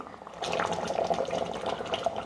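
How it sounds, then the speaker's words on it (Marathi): Water pours steadily into a pot of chicken curry, a soft continuous splashing and gurgling close by, with no talking. "मी अजून 1 ग्लास इतकं पाणी घातलेलं आहे"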